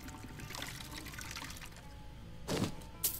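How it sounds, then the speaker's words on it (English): Water poured to refill a container in Skyrim, a faint steady trickle running under a low game background before a brief louder splash near the end. "Can you fill my water back up?"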